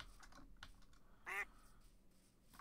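A single short duck quack in the modded Minecraft FTB game, brief and moderately clear over quiet keyboard typing and faint background noise.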